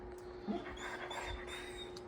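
A puppy pants softly and lets out a few thin whimpers, quiet and close indoors, with a faint steady hum underneath.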